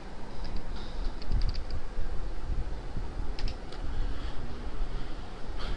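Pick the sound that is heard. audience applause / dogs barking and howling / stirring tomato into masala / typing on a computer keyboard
typing on a computer keyboard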